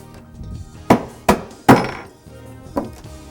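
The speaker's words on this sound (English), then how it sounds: "We take our North Fork Premium Bullet. We drop it straight in. Take our bullet seater." A bullet seater pressed onto a 180 grain North Fork bullet seating into a 30-06 cartridge case during handloading, giving three sharp close thunks in quick succession and one softer click after a pause, with no talk.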